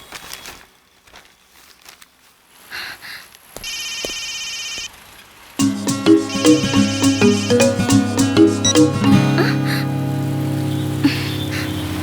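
A mobile phone rings with a melodic electronic ringtone that starts loud after a quiet beep and repeats its tune steadily, alone without talk.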